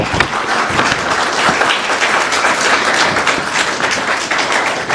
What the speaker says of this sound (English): So can we please have a round of applause?